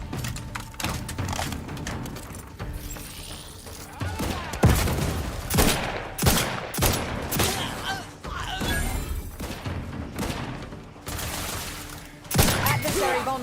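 Gunfire in The Outer Worlds 2, rapid bursts of shots and heavy thuds that rise and fall across the stretch, loud and close, with a few brief game voice lines in between.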